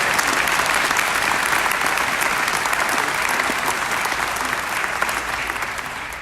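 Audience applauding at a grand opening event, a sustained broadband wash of clapping that stays steady and full for several seconds before tapering slightly.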